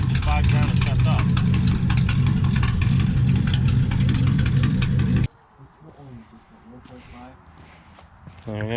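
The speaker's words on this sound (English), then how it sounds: "I want to just let it idle, but I feel like it just gets to a point and then it just bogs down and shuts off" A 1940 Ford Tudor engine idles loudly and roughly, then abruptly cuts out about halfway, leaving quiet shuffling and faint background sounds before a brief rise at the end.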